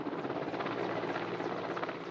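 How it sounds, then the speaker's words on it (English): A big Russian Mil-8 helicopter lifting a load of a little over four tons of winding gear near mountains, a steady loud rotor thrum with rhythmic blade pulsing, heard alone at moderate distance. "the big Russian Mil-8 helicopter can lift 5"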